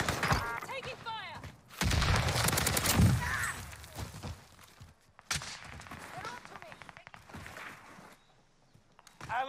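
Gunfire rings out in a Call of Duty Rebirth Island match, with bursts of rapid shots and thuds, some close and loud and others quieter, under players talking.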